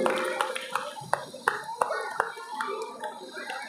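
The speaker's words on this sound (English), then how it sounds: "Give them big applause. All of you clap your hands." Children at a school prize distribution ceremony applaud in short, scattered bursts of clapping, with a voice talking over the sparse claps.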